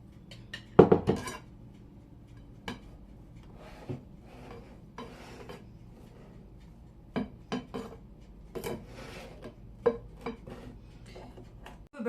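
Utensil scraping and rubbing across whipped cream on a cake for a homemade mango qashtouta dessert, soft intermittent scrapes with a few light clinks of metal against a dish, close and quiet, no talking.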